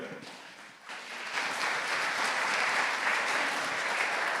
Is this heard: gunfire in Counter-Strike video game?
no